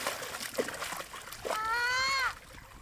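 Children splash while playing in a canal, a few sloshing bursts of water up close, with a voice rising in a sustained cry near the end.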